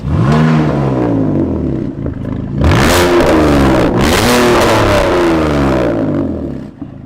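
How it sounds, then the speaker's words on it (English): A concept car engine revving hard with a deep growl: loud, close roaring revs that rise and fall in pitch, a brief dip before a second surging rev, sustained and dominant with no talk. "this is a concept car that sounds like that."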